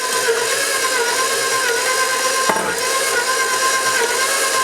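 A stand mixer runs steadily, beating room-temperature butter into apple cinnamon donut batter, with a continuous loud whirring motor hum and a brief knock partway through.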